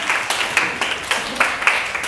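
A small group in a classroom claps together in a short burst of uneven, close hand claps.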